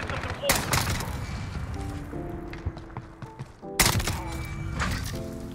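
Shots from an SKS rifle in Call of Duty Warzone, with two loud bursts of gunfire and scattered thuds between them over game background noise, while someone talks.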